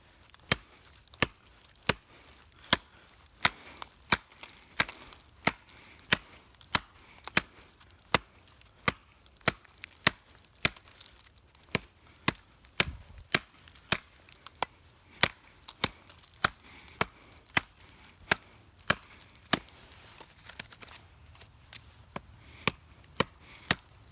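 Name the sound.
knife chopping into dead tree stump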